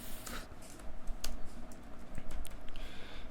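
Code being typed on a computer keyboard, a steady run of light key clicks at close range with no talking.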